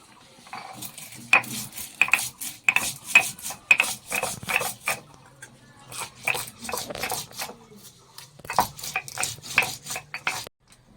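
Mustard and poppy seeds ground into paste on a grinding stone: repeated rhythmic scraping and rubbing strokes, close and fairly loud, in bursts with short pauses and no talk.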